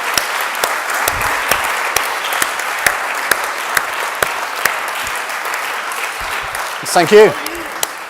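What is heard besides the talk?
applause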